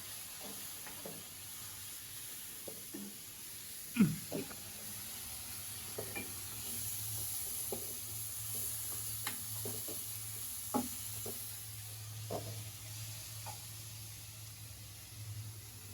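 Goat meat with chili powder, salt and spices stirred and fried in a pan: a steady low sizzle with scattered scraping and clinking of the spoon against the pan, close by with no talk.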